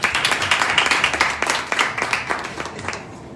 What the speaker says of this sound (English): Let's give her another hand clap